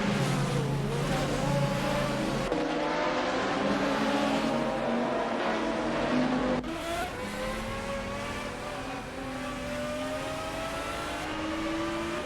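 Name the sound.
GT race cars in AI racing simulator video game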